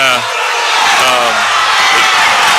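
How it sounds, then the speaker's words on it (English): A crowd at a high school basketball game between Fredericksburg and Boerne swells into a loud, sustained roar, while a commentator keeps talking over it. "right as soon as I say that, crowd gets loud"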